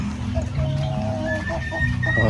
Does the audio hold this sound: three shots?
no